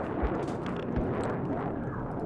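A dropped grenade detonates in the shooter game Black Mesa, a rumbling, noisy blast with a couple of low thumps, followed by continuous roaring debris and rumble that fills the whole stretch.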